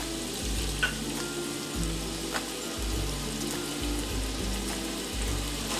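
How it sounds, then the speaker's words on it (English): Spices and vinegar frying in a pot for a vegetable soup, a steady soft sizzle that runs throughout at low volume with no talking. "So I'm just going to let this fry for about 30 seconds"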